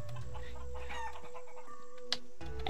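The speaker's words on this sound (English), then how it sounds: "Chickens! Follow the chickens." Chickens clucking in the Shenmue 3 video game, a few short bird calls and a sharp cluck standing out over steady background game music and ambience, with no talking.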